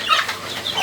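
Young grow-out chickens cluck and chirp in a 1 m by 1 m cage holding up to ten birds, a short, steady burst of close, busy bird calls.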